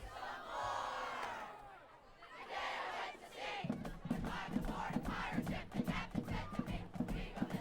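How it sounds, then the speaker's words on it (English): A high school football crowd and the Tomahawk Band chant along together at a night varsity game, rhythmic thumping drum beats and massed voices repeating in steady pulses, loud and close throughout. "A little chant-along song from the Tomahawk Band."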